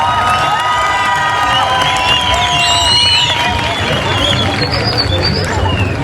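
Crowd at a Pakistan literature festival at BUITEMS, Balochistan, cheering and shouting loudly as a poet takes the stage, a dense steady roar of voices with whistles and some clapping throughout.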